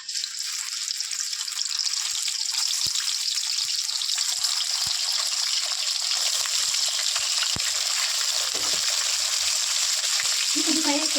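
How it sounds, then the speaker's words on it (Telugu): Fish pieces fry in a thick pan of hot oil, giving a loud, steady sizzle that runs throughout, with a few faint clicks and a brief stirring scrape near the end. "ఇప్పుడు మనం చేప ముక్కలు వేసుకొని ఫ్రై చేసుకుందాము."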